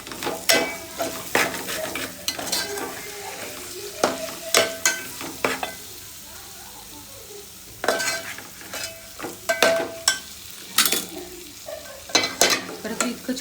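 Biryani masala stirred in a frying pan, repeated scraping and clattering of a spoon against the pan in bursts over a low sizzle, close and clear.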